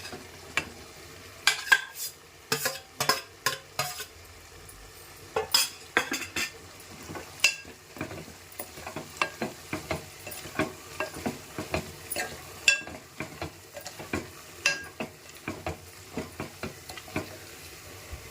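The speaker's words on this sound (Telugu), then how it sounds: "ఉడికించి పెట్టుకున్న రొయ్యలు వేసేసుకోవాలి." Cooked prawns are stirred into a spicy Andhra-style gongura curry in a pan. A spoon scrapes and clinks against the metal in an irregular rhythm over a soft, steady sizzle, close up, with no talking.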